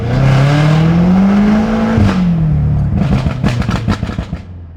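A software-tuned BMW M5 F90 accelerates hard, its engine note climbing in a loud rising whine, dropping at a gear change, then pulsing through rapid rhythmic bursts and crackles.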